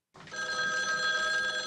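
A telephone rings in a film scene, one sustained bright bell ring starting abruptly and continuing loud without talk.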